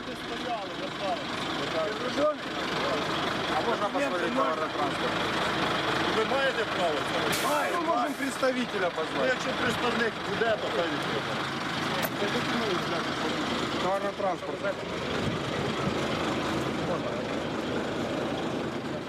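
Supply trucks idle in a long blocked queue at the border between Ukraine and Crimea, a continuous low engine rumble under street noise, with voices talking throughout.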